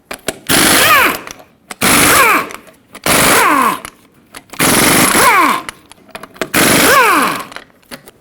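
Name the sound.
removing 21mm lug nuts from Ford F-350 wheel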